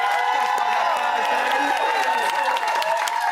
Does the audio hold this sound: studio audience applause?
yes